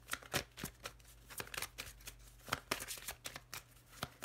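A deck of tarot cards is shuffled close up, giving repeated quick riffles and soft slaps in an uneven rhythm, fairly quiet with no talking.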